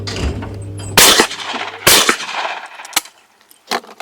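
Shotgun blasts at skeet clay targets fired with a tight choke, two loud booming shots about a second apart followed by rolling echoes and a few fainter pops and clicks on an outdoor range.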